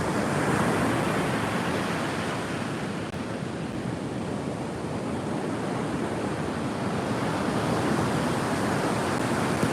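Ocean surf at Sawarna Beach in Indonesia rolls in as a constant, dense roar of breaking waves, with wind buffeting the microphone throughout.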